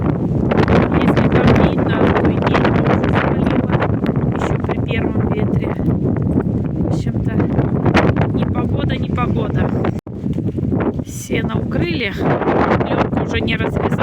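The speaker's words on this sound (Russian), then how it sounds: "Ветер передает 25-30 метров в секунду." Strong gale at 25-30 metres per second driving rain, a loud continuous roar of wind buffeting the microphone throughout, with a voice speaking beneath it.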